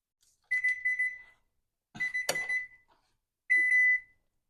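A kitchen timer alarm goes off while a chocolate cake is made, sounding three loud electronic beeping bursts close by, each lasting under a second with short pauses between.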